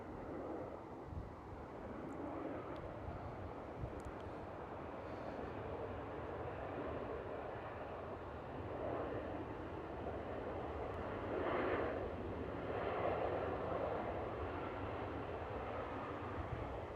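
A Ryanair airliner landing and taxiing at Manchester Airport gives a steady, broad engine roar at moderate distance that swells slightly toward the end, with no talking.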